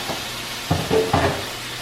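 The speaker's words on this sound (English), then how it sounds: "So now you want to add the potatoes and the onions" Potatoes and onions drop into a hot pan over medium-high heat, giving a few soft thumps followed by a low hissing sizzle, close by and brief.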